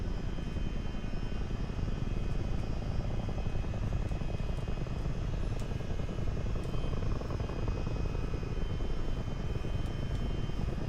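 A Chinook twin-rotor helicopter in flight in Microsoft Flight Simulator 2024 gives a steady, loud, continuous rotor and engine roar that runs unbroken from start to finish, with no voices over it.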